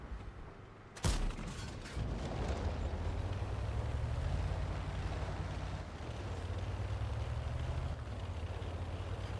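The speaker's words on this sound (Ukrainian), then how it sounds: "а чому всі стріляють, а я не бачу танк?" Tank gunfire in the World of Tanks video game: a sharp loud shot near the start, then a rumbling low engine drone and distant battle noise continuing steadily.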